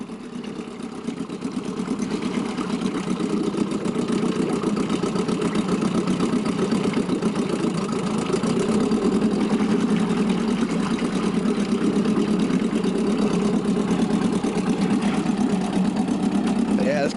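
An Evinrude 3HP outboard motor idles slowly with a steady, buzzy putter that holds constant throughout. Someone talks intermittently over the running engine.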